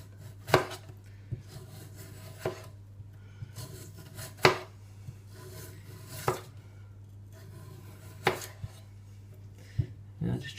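A knife peels a potato evenly around by hand, giving soft intermittent scraping and cutting strokes, close and fairly quiet, with sharp taps against a board and a low steady hum beneath.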